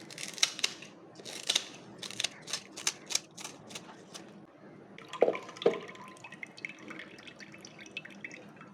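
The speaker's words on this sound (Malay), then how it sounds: "Potong 3 hingga 4 helai daun pandan ya" Scissors snip through pandan leaves in a quick series of crisp, close cuts, followed by a couple of louder clicks and softer rustling handling. No one speaks.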